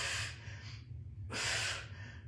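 Heavy breathing during a single-dumbbell metcon workout: two strong, breathy exhales a second apart, close and fairly quiet, over a low background hum.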